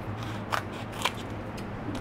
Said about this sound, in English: I'm going to cut just a little bit off of each of these strips